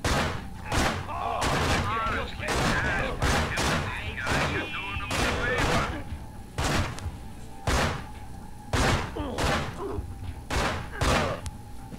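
Gunshots in the video game Manhunt: a string of sharp, loud blasts, some singly and some in quick pairs, spread unevenly across the stretch amid other game sounds.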